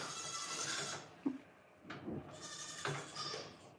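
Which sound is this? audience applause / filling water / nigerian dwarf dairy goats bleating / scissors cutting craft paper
nigerian dwarf dairy goats bleating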